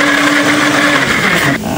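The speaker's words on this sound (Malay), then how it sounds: "Yang kita nak kisar lada merah, buah keras, halia, bawang besar, bawang putih." A kitchen blender grinds red chili, candlenut, ginger, onion and garlic, a loud steady whirring drone that holds level and then drops in pitch near the end as the motor slows.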